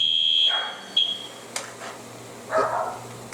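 A shrill smoke alarm beeps briefly a couple of times, set off by cooking, mixed with a dog barking or whining and some clatter in the room.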